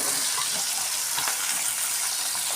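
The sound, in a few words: chopped onions sautéing in a pan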